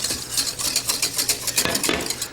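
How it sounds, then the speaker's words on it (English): A utensil stirs butter into a freshly cooked curd in a pan, giving quick, close, rhythmic scraping and clinking against the metal with no talking. "Now I take and I add just a little bit of butter to this. Mix that butter in there."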